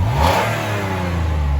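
A car engine revs steadily right after a new catalytic converter is fitted, a loud close rising roar holding for a second or so without any talk.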